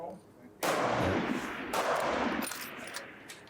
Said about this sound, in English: Shots go up.